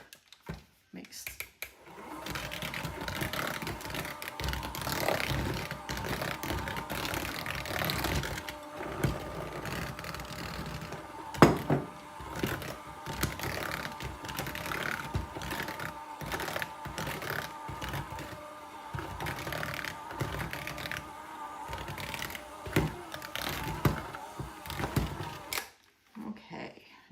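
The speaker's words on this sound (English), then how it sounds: "Now we're done with our mixer." A kitchen mixer works chocolate chip cookie dough for deep-dish cookies, giving off a continuous geared mechanical whirring with rhythmic clattering pulses for roughly twenty-five seconds, close by.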